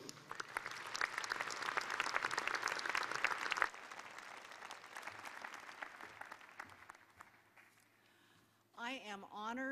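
An audience at a University of Idaho winter commencement applauds steadily to welcome the speaker to the podium, a dense wash of clapping that fades out as a voice begins speaking.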